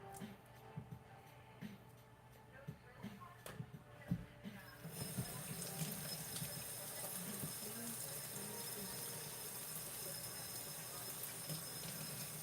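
Running tap water splashes steadily into a sink as hands are washed in a kitchen during shrimp boil prep, the flow starting after a few seconds of quieter handling sounds and continuing close and even.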